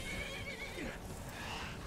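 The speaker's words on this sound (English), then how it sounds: "I'm sorry, horse, if I hit you." A horse in the video game Skyrim neighs: a single quavering whinny rising and falling, heard faintly under a steady bed of game noise.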